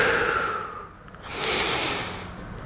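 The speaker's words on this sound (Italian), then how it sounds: "fai semplicemente 5-6 respiri profondi" Slow deep breathing during a posture exercise done with arms pulled back and chest pushed out: a long audible inhale, a pause, then a breathy exhale, close and alone.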